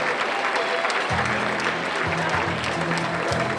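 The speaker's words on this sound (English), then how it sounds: "Let's give them a big round of applause." A crowd at a peanut festival queen's banquet applauds with steady, dense clapping throughout, fairly close and loud, with some cheering mixed in.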